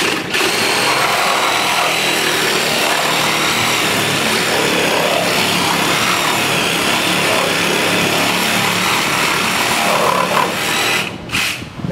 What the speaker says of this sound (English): I'm using my old DeWalt. It's like 2009 with a 20 volt 5 amp hour battery